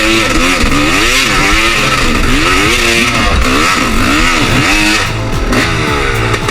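A motorcycle engine in Montalban revs loudly and continuously, rising and falling again and again as it struggles and loses momentum, close by with no talking.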